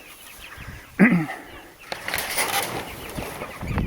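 Pastured chickens clucking outdoors, a sharp nearby cluck followed by softer scattered clucks and rustling amid light ambient noise, with a brief spoken word.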